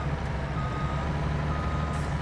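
Reversing beeps from a heavy Kenworth truck in the farming video game Farming Simulator 22, a steady backing alarm running over a continuous low engine rumble, with no talk.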